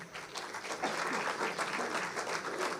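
An awards-ceremony audience applauds a prize-winning company, a continuous wash of clapping that swells slightly and holds steady without talk.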